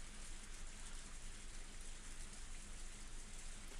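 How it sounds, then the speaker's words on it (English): Heavy rain in the visual novel game Higurashi When They Cry Hou, a dense, even hiss of downpour with a soft patter throughout, steady and unbroken. "The rain was still pretty intense."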